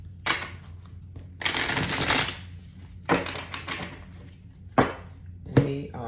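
Tarot cards being shuffled by hand in several separate bursts, each a crisp riffling flutter followed by soft taps, close and alone against quiet background.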